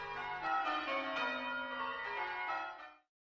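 Church bells rung by St Mary's Band of Ringers sound in a peal, overlapping ringing tones at moderate distance that swell steadily and then fade out, no voices.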